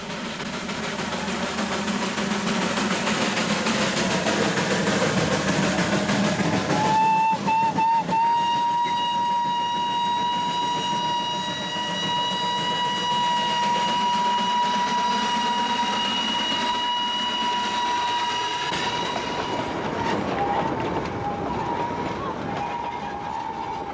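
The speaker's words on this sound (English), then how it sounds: "everyone along the way knows it's him by the sound of his whistle" An Indian steam locomotive on a narrow-gauge line rumbles and hisses throughout, with a long, loud whistle blast in the middle that fades away.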